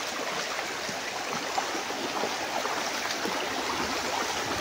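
A river runs beside a mountain path in the countryside, its water giving a steady, even rushing flow that fills the whole moment with no voices over it.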